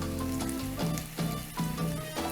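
Ingredients for a beef and potato bake sizzle softly in a pan over gentle heat, a steady close crackle with light rhythmic pulses as they are stirred.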